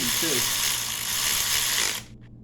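A ratchet socket wrench with a metric socket turns with a steady, rapid clicking whir close by during work on an engine's one-piece rear main seal. A voice speaks briefly near the start, and the clicking stops abruptly after about two seconds.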